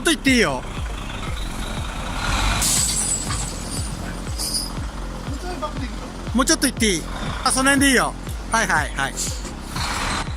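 A flatbed truck reverses to unload logs at a tree-cutting job, its repeated backup beeps pulsing steadily over a rumbling diesel engine, with brief air-brake hisses and people talking nearby.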